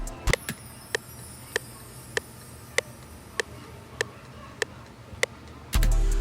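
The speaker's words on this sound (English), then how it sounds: "Next thing I added was like this chimes percussion instrument" A bright chime-like percussion hit repeats at a regular pulse inside a hip-hop beat, about ten evenly spaced metallic strikes over a soft background before a low bass swell cuts in at the end.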